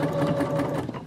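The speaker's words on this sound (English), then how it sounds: "we're then going to sew at 5/8 of an inch all the way around to secure that down" A sewing machine stitching around a sleeve lining, a quick rhythmic needle chatter heard up close in one short continuous run.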